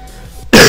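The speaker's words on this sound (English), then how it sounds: "Told myself I wouldn't cough" One short, sharp cough bursts out at the end after a moment of quiet room tone, close and loud.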